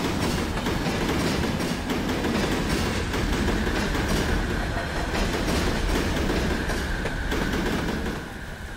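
A long, heavy freight train rolls past in Run 8 Train Simulator on the Tehachapi Loop, a continuous loud rumble with rhythmic clickety-clack of wheels and a faint steady squeal, fading slightly at the end.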